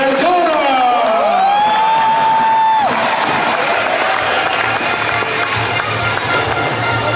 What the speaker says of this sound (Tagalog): please welcome milyong-milyong palakpak para kay Mr. Rafi Vergara.